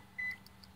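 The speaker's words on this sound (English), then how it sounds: "it beeped like it locked, and it locked" A single short electronic beep from the power door lock of a 2014 Scion xB, clear but quiet against a faint background hum, with no talking.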